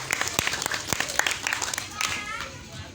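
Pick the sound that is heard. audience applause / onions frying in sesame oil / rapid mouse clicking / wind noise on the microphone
audience applause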